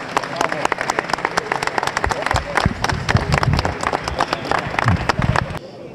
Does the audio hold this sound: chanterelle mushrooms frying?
no